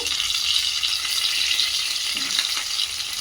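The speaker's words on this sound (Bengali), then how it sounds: "সরষের তেলটা ভালো করে গরম করে নেওয়ার পর এবার পটলগুলো ভেজে নেব।" Stuffed pointed gourds fry in hot mustard oil, giving a dense, continuous crackling sizzle that stays loud and even throughout.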